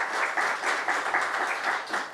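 Audience applauding a law lecture on interlocutory appeals, a brief, even burst of many hands clapping with a slight pulsing rhythm, moderately close.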